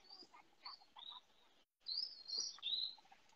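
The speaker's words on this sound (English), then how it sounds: "I love hearing the birds in the background." Small birds chirp and tweet in quick bursts, fairly faint and at a distance, with a short gap midway before a livelier run of calls.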